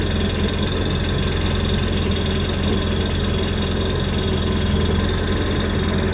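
A Yamaha WaveRunner engine runs steadily right after a strong start on an upgraded battery, a loud, close, continuous idling drone with a low mechanical hum and no talking.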